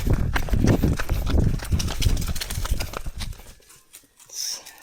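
A horse trots over wet ground on a farm, giving a quick run of rhythmic hoof clops that fade out near the end, with little else around.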